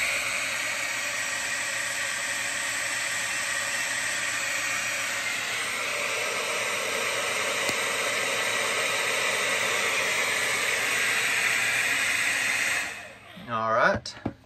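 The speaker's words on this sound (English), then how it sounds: "Let's put on high fan speed," An electric heater's fan, powered through a pure sine inverter from a LiFePO4 battery drawing about 83 amps, runs on high with a loud, steady whooshing roar, then winds down near the end as a voice speaks briefly.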